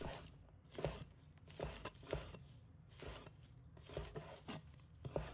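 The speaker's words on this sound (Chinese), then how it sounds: "再准备2根蒜苗，把它切成小段。" A knife chops garlic sprouts into short lengths on a board, giving a quiet, steady run of soft cutting taps in uneven bursts, with no talk.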